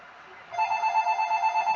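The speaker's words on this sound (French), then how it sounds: "Je suis désolé, le téléphone sonne." A telephone rings in the room during a recorded card game session, starting after a brief pause with a steady, pulsing electronic trill at moderate volume, with no talk over it.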